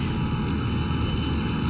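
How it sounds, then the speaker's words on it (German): Airplanes approaching in the video game Forsaken, a steady, loud engine drone that fills the whole stretch without breaks, with no one talking over it. "Ich höre schon der Flugzeuge."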